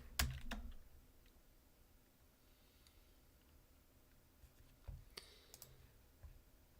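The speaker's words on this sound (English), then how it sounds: "Am I typing it in right?" Keys clatter on a computer keyboard in a short burst of typing at the start, then scattered single clicks and taps, faint and close, in an otherwise quiet room.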